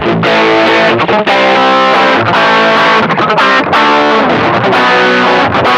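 Heavily distorted electric guitar through a distortion pedal and Xotic AC Booster pedal, playing loud sustained chords and riffs, thick and saturated, with brief pauses between phrases.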